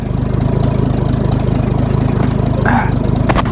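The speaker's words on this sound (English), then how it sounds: "The idle's a little bit low" A bullnose truck's old 300 engine, converted from a one-barrel to a two-barrel carburetor, idles low and lumpy, its steady rapid pulsing throb close by, with a brief faint clatter near the end.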